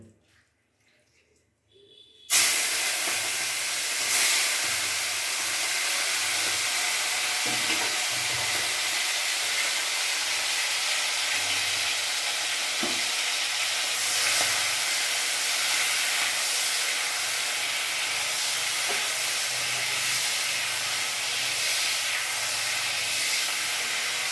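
After a brief quiet start, prawns and pointed gourd coated in salt and turmeric hit hot oil and a loud, steady sizzle and hiss fills the rest, with occasional soft stirring sounds.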